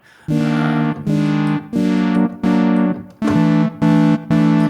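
Seven buzzy synthesizer notes with heavy foldback distortion from a Reveal Sound Spire synth play in a steady rhythm, each one harsh and bright with dense overtones and short gaps between.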